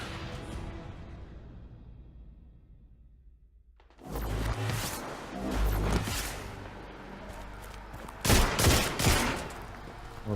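Gunfire from the video game Destiny 2: a long whooshing weapon sound fades into a brief silence, then bursts of rapid automatic shots and crashing impacts erupt, loud and close.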